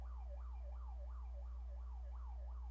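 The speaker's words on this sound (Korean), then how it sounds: "앰뷸런스가 가고 있어서 좀 방해가 된 것 같아서 죄송하다고 말씀드리고 싶네요" An ambulance siren wails in a steady, repeating rise-and-fall pattern, faint and distant beneath a loud low electrical hum, with no talking.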